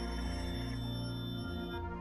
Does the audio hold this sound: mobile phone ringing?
yes